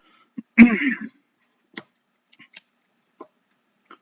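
A single short cough or throat-clearing close by, followed by a few faint clicks and taps in an otherwise quiet room.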